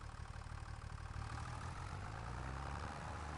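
A tractor engine idles in the Farming Simulator 25 video game, a steady low rumbling drone with a faint knocking pulse, heard alone at a quiet level.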